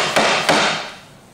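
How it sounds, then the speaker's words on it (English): Two sharp mallet strikes drive a chisel into a wooden baluster dovetail, close and loud, each leaving a brief ringing decay. "When you chisel,"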